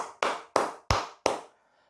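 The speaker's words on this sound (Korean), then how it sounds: "고생한 기념으로 박수 한번 치고 가도록 하겠습니다" Four sharp, loud hand claps at a steady, even rhythm, close and alone, each with a short decay.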